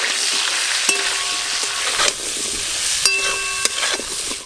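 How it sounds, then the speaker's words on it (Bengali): Bottle gourd stems, eggplant, salt and turmeric stir-fried in a pan, a steady close sizzle with spatula scrapes and a few sharp metallic clangs against the pan. "এবার আমি লাউ ডাঁটা দিয়ে দেব, কেটে ধুয়ে রাখা বেগুন, লবণ, হলুদ গুঁড়ো,"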